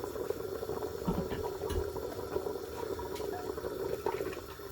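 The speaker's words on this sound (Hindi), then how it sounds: "जब इसको उबाला आ जाएगा तो फिर फ्लेम को हम लो कर देंगे।" Aloo gosht curry of meat and potatoes boiling in a pot on the stove, Punjabi style, a steady close bubbling and simmering that runs alone throughout with small pops and gurgles.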